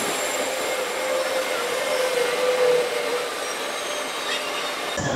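A train pulls into a station in Israel, giving a loud, steady rumble of wheels on rails with a faint squeal, lasting several seconds without speech.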